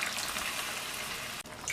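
Water trickles steadily into a pan of sambar made with tamarind and cooked toor dal, a close hissing pour that stops abruptly near the end, with no talking.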